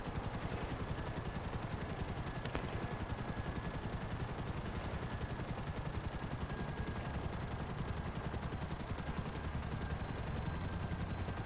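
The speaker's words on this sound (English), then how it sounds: "Wait, I already called the helicopter." A helicopter arrives for a pickup in a video game, its steady rotor chop pulsing loud and continuous throughout with a faint tone riding over it, no voices heard.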